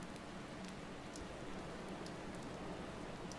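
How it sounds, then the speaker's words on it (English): Steady rain falls in the Motorsport Manager racing game during qualifying at Tondela, a continuous even hiss of drops with no voices. "And here's our rain. We had predicted rain for qualifying, and we've got it."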